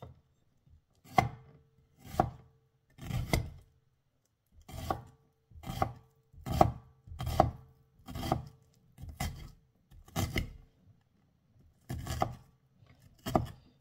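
A bombay onion is chopped finely with a knife on a board for lumpiang shanghai. About a dozen separate clusters of quick, close chopping strokes are broken by short pauses, with no talking.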